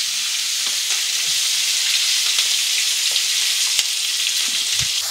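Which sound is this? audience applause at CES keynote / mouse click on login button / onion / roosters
onion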